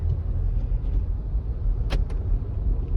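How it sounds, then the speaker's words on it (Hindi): MG Hector Plus SUV under full throttle in second gear, a steady engine rumble with road noise that stays even throughout, plus one brief sharp click near the middle. "गाड़ी सेकंड गियर पे लगा दी है और फुल थ्रॉटल, कुछ ऐसी है गाड़ी की पिकअप"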